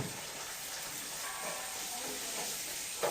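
Chili powder and coriander powder sautéing in a pan for a Kerala home meal, a soft steady sizzle and crackle with faint stirring scrapes and a brief clatter at the end.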